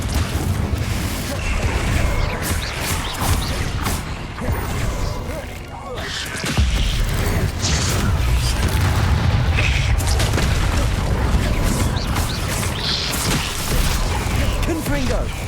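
Confringo fire spell from Hogwarts Legacy bursting in dense, loud booms and crashes over a roaring game soundtrack, with a voice speaking over the din.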